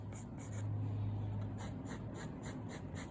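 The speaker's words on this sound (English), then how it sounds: "I'm starting light with a dark pencil." Dark pencil hatching lightly on paper while drawing a nose, a soft, steady scratchy rasp of repeated short strokes, close and quiet with no talk.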